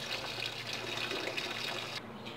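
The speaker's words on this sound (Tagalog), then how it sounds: "Hugasan natin siya isa-isa" Tap water runs steadily over vegetables while they are washed one by one, a continuous close splashing gush with no talking.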